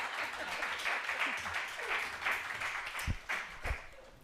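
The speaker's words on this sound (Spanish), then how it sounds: "Un aplauso, por favor" Talk audience gives a round of applause at a speaker's request: moderately faint, fairly sparse clapping with a few louder low thumps near the end, heard from a distance in a lecture-hall setting.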